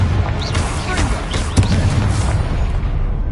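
Spell explosions from Confringo in the Hogwarts Legacy video game, a dense, rumbling burst-filled blast with a sharp crack near the middle, continuous over game battle noise.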